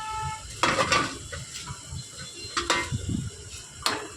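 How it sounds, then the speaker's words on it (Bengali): Dry chow mein noodles dropped into a pot of boiling water for egg chow mein, with several sharp clinks and clatters of utensil against pot over a steady bubbling hiss, close and moderately loud, no talking. "জলটা ফুটে গেলে আমি এখানে দিয়ে দেবো চাউমিনগুলো"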